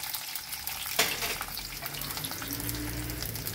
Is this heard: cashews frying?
yes